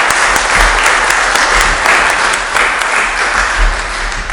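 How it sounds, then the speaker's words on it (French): A church congregation claps together in a temple during a Protestant service, loud, dense applause sustained throughout with no voices over it. "On peut les remplacer par un applaudissement collectif."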